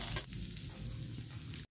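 Rotis fry in a pan with a steady, close hiss of sizzling that holds evenly throughout and cuts off at the end.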